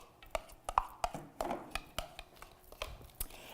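A very sharp knife chops green onion on a board in a series of crisp, irregular taps, close and fairly quiet, with no talking.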